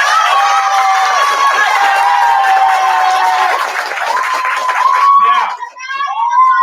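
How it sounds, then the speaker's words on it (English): A crowd at a graduation ceremony claps and cheers loudly, with excited shouting and children's voices mixed in, the noise sustained before tapering near the end. "So please clap it up for Soraya."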